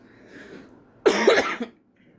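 A single sharp cough bursts out close by after a soft murmur, then the room falls quiet.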